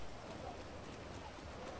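Rain falls in a Grand Theft Auto game as a continuous, even hiss of drops striking surfaces, fairly quiet and steady throughout.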